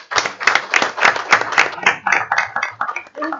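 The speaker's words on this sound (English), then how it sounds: "Let's give Miss Petit one big round of applause" An audience at a school board meeting breaks into a steady round of clapping, close and fairly loud with dense irregular hand claps that taper off near the end.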